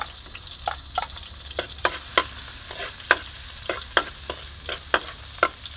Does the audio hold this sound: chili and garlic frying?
yes